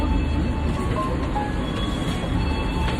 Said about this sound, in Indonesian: Ini di kereta